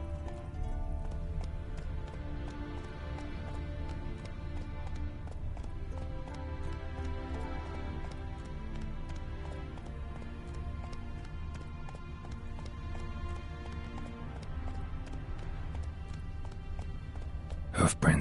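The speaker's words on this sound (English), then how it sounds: "Run, Roach." Horse hooves galloping in a video game, a steady rapid clip-clop running throughout under continuous game music.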